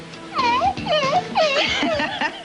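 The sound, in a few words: graveyard dog whine sound effect from Disney animation control system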